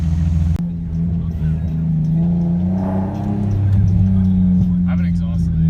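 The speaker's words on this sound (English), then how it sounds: "I have an exhaust leak." A Mercedes S55 AMG with an exhaust leak drones steadily at low revs, the engine note rising slightly as it pulls away, heard from inside with a brief knock at the start.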